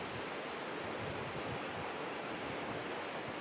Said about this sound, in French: si on n'est pas passé à la cascade Maroto, donc tu n'es pas venu dans la Papeeno